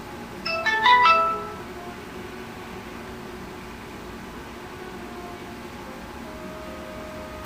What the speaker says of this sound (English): A text message from my mom.